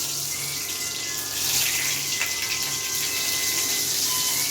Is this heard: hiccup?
no